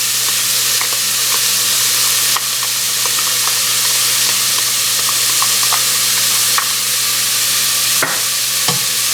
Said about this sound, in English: Give that a good stir.